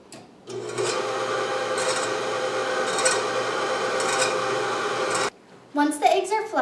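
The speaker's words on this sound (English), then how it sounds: "in a mixer with a whisk attachment, beat your eggs until they are fluffy" A stand mixer with a whisk attachment beats eggs for brownie batter, a steady loud whirring drone lasting about five seconds before cutting off, followed by brief clattering kitchen sounds.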